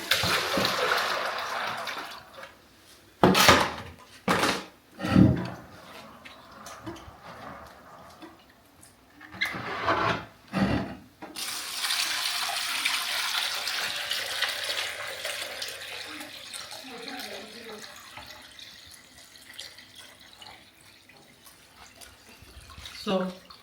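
Beans for moi moi and akara being washed in water, with sloshing, splashing and pouring in uneven bursts close by, mixed with tap-like running water and talk throughout.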